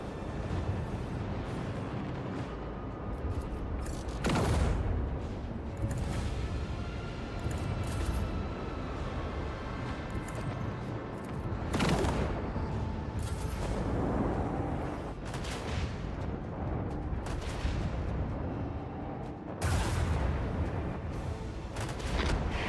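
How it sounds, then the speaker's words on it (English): Macro cannons in the video game Rogue Trader fire in heavy booming volleys, several deep blasts rolling out over a continuous dense rumble of battle noise with no talk. "I want to hear from macro cannons roar"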